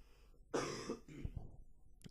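A short burst of coughing and throat clearing close to the mic, followed by a couple of smaller hacking sounds.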